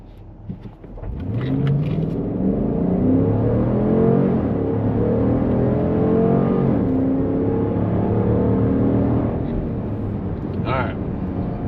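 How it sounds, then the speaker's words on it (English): A 2025 Dodge Durango R/T fitted with a K&N Next Gen intake launches hard from a standstill, its engine note rising loud and sustained through the gears, with voices talking over it. "I'm just gonna go from brake pedal to accelerator pedal and see what happens."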